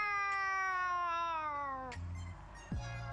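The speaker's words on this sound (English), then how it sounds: "Pocket rubs his head against the bottom of your legs, purring." A cat in the video game Boyfriend Dungeon lets out one long, drawn-out meow that falls in pitch, followed by a short softer cat sound.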